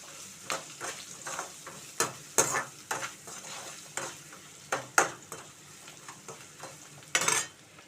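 Onions with turmeric fry gently over a low flame for an okra and tomato curry, giving a soft, continuous sizzle under repeated scraping and stirring taps of a spoon against the pan.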